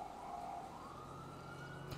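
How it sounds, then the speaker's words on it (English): Police siren from a newly installed siren pack in the game GTA 5, a steady wailing tone sweeping slowly upward over low engine rumble, moderately loud and continuous with no talk. "we do have a new siren pack installed, so if you're hearing different sirens and horns, that's why."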